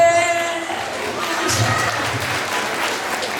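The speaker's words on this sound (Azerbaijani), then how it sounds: "Alqış edin." Guests at a henna night wedding celebration break into sustained applause with some cheering, a thick wall of clapping that begins over fading music and holds steady.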